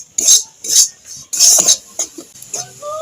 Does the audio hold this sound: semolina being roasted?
yes